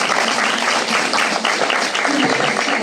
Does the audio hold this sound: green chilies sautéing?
no